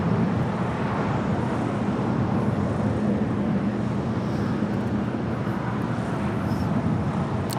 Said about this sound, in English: Next departure here on the south side is Japan Airlines Flight 61 coming in from heading to Tokyo Narita on a 787-8 Dreamliner.